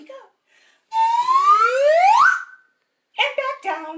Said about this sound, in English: Let's start with our handy dandy whistle.